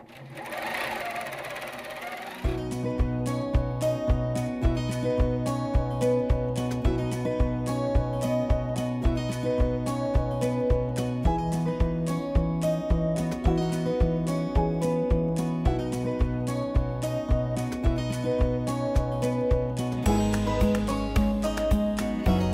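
A computerized longarm quilting machine under Pro Stitcher control stitches a quilt, a steady fast mechanical needle rhythm running loud and continuous after a short quiet start, with slight shifts in pitch along the way.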